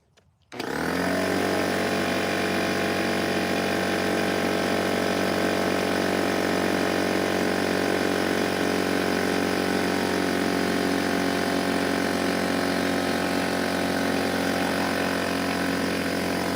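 Air compressor running steadily at close range while lawn sprinkler lines are blown out, a loud continuous mechanical drone that starts abruptly and holds unchanged throughout with no talk.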